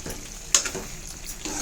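An eggplant and potato curry with garam masala and coriander gets stirred in the pan, a soft frying sizzle under a sharp scrape or clink near the middle and a few light stirring knocks.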